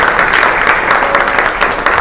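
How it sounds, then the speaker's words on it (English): An audience at a public library event breaks into loud applause, a dense, sustained patter of many hands clapping close by with no voices standing out. "Give him a warm applause."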